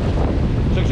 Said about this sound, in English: Here comes that water.